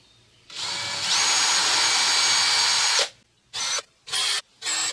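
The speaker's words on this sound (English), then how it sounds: "Now I have the exact location to drill some holes." A power drill boring holes for a serving table shelf whines in one long sustained run, followed by three short, sharp bursts with brief silences between them, loud and close with no talking.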